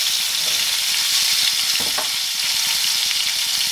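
Burgers frying in a pan give a continuous loud sizzle and crackle, close up, with a brief scraping stir near the middle and no voices.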